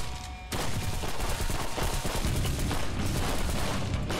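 Enemies in the video game Blight fire their guns in a steady, dense volley of gunfire that starts abruptly and continues without letup, loud and up close.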